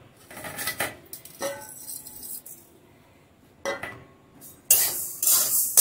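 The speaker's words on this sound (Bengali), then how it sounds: "আর এদিকে কড়া গরম হয়ে গেছে, দিয়ে দিব সর্ষেটা প্রথমে একটু গরম করে নেব।" Mustard seeds stirred in a hot kadai for mango oil pickle, a spoon scraping and clinking against the pan in irregular bursts with quiet gaps, ending in a louder crackling rattle.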